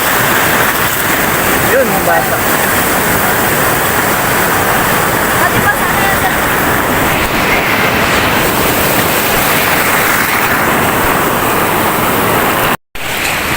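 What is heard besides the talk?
big ocean waves surf at Bagasbas Beach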